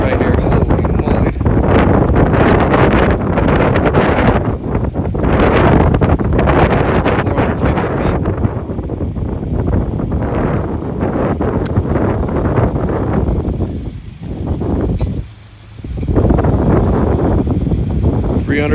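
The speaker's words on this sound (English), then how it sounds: "It is so windy right here." Strong wind buffets the microphone near Snow Summit and Bear Mountain ski resorts, close to power lines, a loud, continuous roar with gusts and rumble that briefly drops away near the end.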